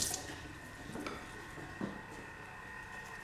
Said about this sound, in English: Let me just rinse it.